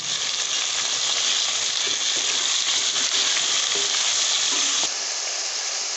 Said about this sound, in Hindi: अब इसमें अदरक लहसुन का पेस्ट शामिल करेंगे और गोश्त को अच्छी तरह भून लेंगे